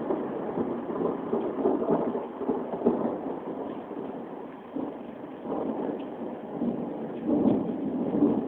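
Early thunder rolls beneath dark storm clouds, deep muffled rumbles swelling and fading in overlapping waves, steady and fairly loud, with wind noise on the microphone and no talking.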